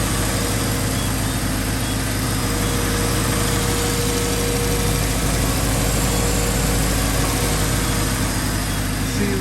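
A Toyota Glanza engine runs continuously while burning off old gas, a loud, steady droning hum with constant vibration and no change in pace, heard up close.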